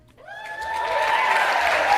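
Applause from the audience at a TEDx talk rises gradually into steady, sustained clapping that fills the room, with no voices over it.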